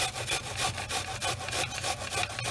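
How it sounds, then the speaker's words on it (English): A brown onion grated on a metal grater, core side up: steady, rhythmic rasping strokes, close and loud, about a dozen back-and-forth scrapes with no talking. "a brown onion, but what we're going to do is grate it in on the core side"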